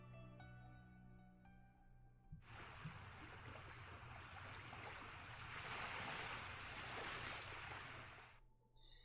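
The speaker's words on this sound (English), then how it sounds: "Suddenly, I hear the sounds of waves crashing against the shore." Waves crash against a shore in a steady, loud broadband wash that rises after a quieter opening with a low tone, then cuts off near the end.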